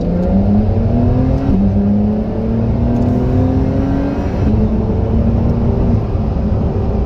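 A car pulls hard from first gear with a loud, close engine note that climbs steadily toward redline, broken by two quick gear shifts before it climbs again.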